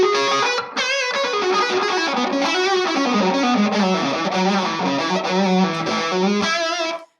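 An electric guitar plays a continuous, chord-heavy riff through a stock ProCo Rat distortion pedal set with distortion and filter near one o'clock, loud and saturated with no talking.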